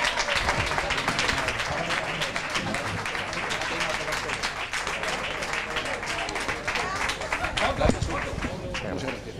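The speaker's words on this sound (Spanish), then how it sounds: "Un aplauso." Sustained applause from a crowd at a festive fair event honoring a sports organizer, loud dense clapping with sharp individual claps near the front and chatter and voices mixed underneath.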